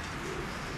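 Pigeon cooing, a soft low continuous coo from a racing or show pigeon at close range, heard alone with no talk.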